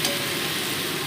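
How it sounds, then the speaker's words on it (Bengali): Fried soybean chunks sautéing with spices in a pan, a continuous close hiss of sizzling oil, brief and fairly loud. "দিয়ে মোটামুটি 2 মিনিট এটাকেও আমি কষিয়ে নিচ্ছি মশলার সাথে।"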